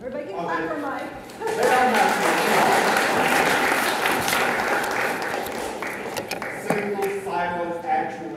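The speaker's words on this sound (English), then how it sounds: "Everybody can clap for Mike." At a retiree recognition ceremony an audience bursts into broad, sustained applause that swells after a speaker and then fades, with talk resuming at either end.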